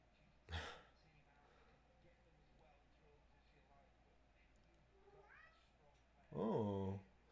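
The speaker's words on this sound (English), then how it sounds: "meowing at the door" A pet cat meows at a door during a football watch-party stream, with two short cries, a faint one near the start and a louder drawn-out meow near the end, over a quiet room.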